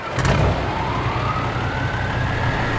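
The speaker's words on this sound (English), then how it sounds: "Let's crank up this truck," Freightliner FLC truck with a 550 horsepower Cat engine in a truck simulator game, a steady loud diesel idle after a brief start, with a rising whine running underneath.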